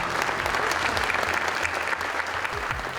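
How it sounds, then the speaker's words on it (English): An audience at an Atlanta conference applauds warmly, a dense, steady wash of many hands clapping that stays even and loud throughout the short stretch. "give him a warm hand clap of gratitude"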